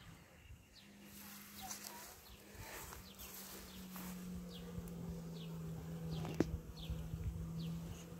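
Honeybees buzz around fruit trees in early evening at a farm orchard, with a steady, low drone of passing bees close to the ear and a few faint bird chirps in the background.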